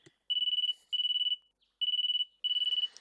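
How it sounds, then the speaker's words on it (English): A phone alarm in the Riddle Joker visual novel game beeps in four separate bursts of rapid, high-pitched pulses, each about half a second long, clear and alone. "Some incessant beeping noise I'm not familiar with. An alarm?"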